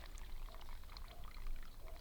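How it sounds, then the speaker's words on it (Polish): Water from a faulty rooftop photovoltaic installation trickles and pours down continuously, a steady close splashing stream with faint background noise and no speech. "To ta woda tutaj tak ścieka"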